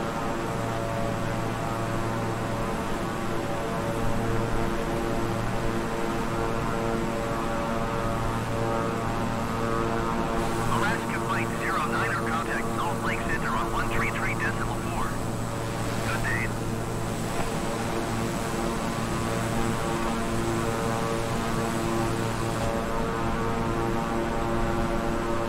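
Twin turboprop engines of a King Air 350i in Microsoft Flight Simulator during a night flight from Helena to Missoula, a steady loud droning hum throughout with a brief crackling burst midway as the throttles are pulled back.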